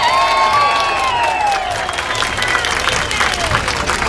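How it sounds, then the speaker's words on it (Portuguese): A crowd of activists and party militants at a political rally applauds Preta Ferreira, a loud, steady wash of clapping with scattered cheers and voices mixed in. "pedir uma salva de palmas para ela"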